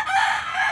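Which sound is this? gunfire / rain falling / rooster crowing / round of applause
rooster crowing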